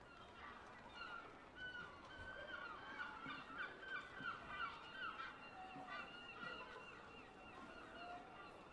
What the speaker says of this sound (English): I'm enjoying the seagulls in the background.